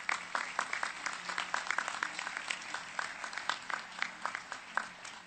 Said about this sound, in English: We owe them all a round of applause.